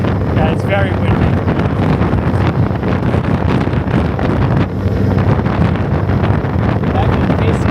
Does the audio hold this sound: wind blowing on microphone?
yes